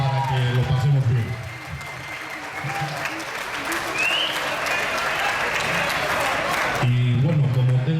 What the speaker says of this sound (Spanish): quiero pedir un fuerte aplauso para toda esta gente que está de azul